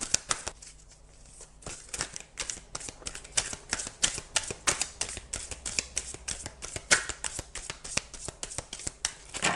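An oracle deck of tree-spirit cards is shuffled by hand during a card reading. Rapid, dense riffling clicks and flutters continue steadily up close, with no speech.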